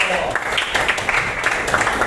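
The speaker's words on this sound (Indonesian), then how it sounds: "Kita beri tepuk tangan dulu untuk kelompok 1" A classroom of students claps for the first discussion group, a dense patter of handclaps filling the short stretch at moderate volume, with some voices mixed in.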